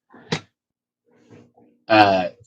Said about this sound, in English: There's some cute kitties.